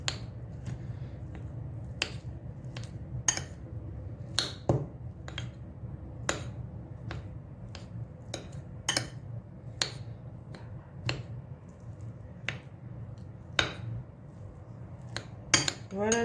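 Cheese filling for stuffed brioche rolls mixed and crushed in a bowl, sharp clinks and taps of a utensil against the bowl at an irregular pace, close, over a low background hum.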